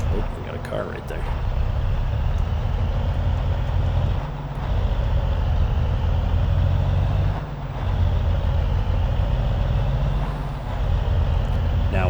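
A Kenworth W990 truck hauling grain in a farming video game, a deep steady diesel rumble with periodic brief dips as gears change, loud throughout with someone talking over it.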